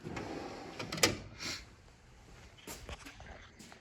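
A drawer on a Snap-on Classic 73 tool chest slides with a sharp metallic clack, followed by fainter rattles and knocks as it moves, fairly quiet and close.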